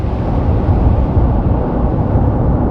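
Sound of the early universe, pitched up into human hearing: a loud, continuous low rumbling roar, dense and noisy like distant thunder or a deep engine, steady without breaks.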